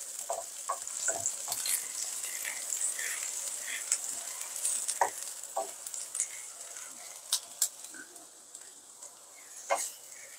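Onion frying in a pan for okra-mustard chorchori, a continuous bright sizzle with scattered spatula scrapes and taps, close and steady throughout.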